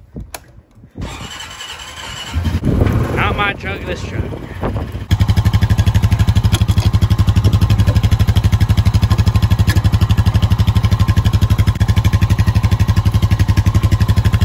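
A Honda Rubicon 520 four-wheeler ATV cranks over and fires up, then settles into a loud, steady, close-up idle with rapid rhythmic engine pulses; someone speaks briefly before it starts.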